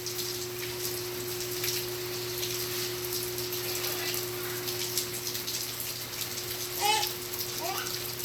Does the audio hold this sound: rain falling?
yes